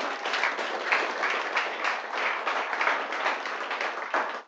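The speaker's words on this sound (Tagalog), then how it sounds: "Wala bang palakpak kay Jesus?" Church congregation applauding during a sermon, a steady dense wash of clapping hands held at even loudness for several seconds, with no voices over it.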